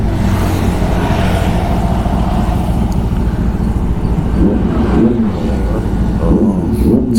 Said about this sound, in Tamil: ZX10R, lovely sound.